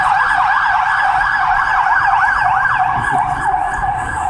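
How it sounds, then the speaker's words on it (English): An ambulance siren wails loudly nearby, its rising and falling tone cycling rapidly as the vehicle passes, with traffic rumble underneath. "The ambulance go by."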